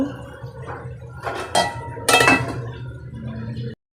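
A lid is set over a pan of Gobindobhog rice pulao as it cooks in water, giving two close metallic clanks over a low simmering hiss, then sudden silence.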